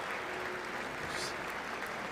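A crowd claps steadily through the whole moment at the State of the Union address, a dense, even wash of applause heard at a moderate distance.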